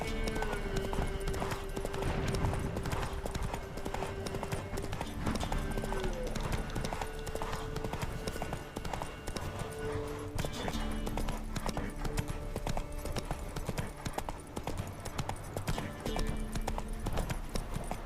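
Hooves of a galloping horse in The Witcher 3 video game, steady rapid clip-clop running throughout under game music and spoken voices.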